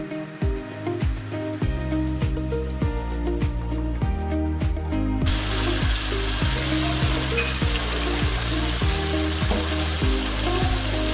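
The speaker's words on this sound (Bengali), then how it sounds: "মশলাটি খুব ভালোভাবে কষে নেওয়ার পর ভেজে রাখা সবজিগুলোকে তার মধ্যে দিয়ে দিলাম।" Fried vegetables tipped into a pan of well-cooked spice masala for a cauliflower curry, setting off a steady close sizzle, with soft rhythmic stirring knocks that grow into a broader hiss partway through.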